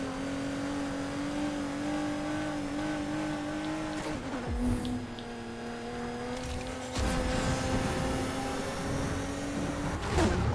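An Aston Martin's engine in Need for Speed Heat holds a steady droning rev, then drops and surges twice with gear changes as the car accelerates, loud and continuous with no voices.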